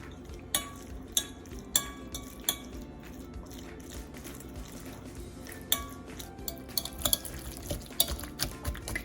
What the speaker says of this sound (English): Go ahead and mix this all together.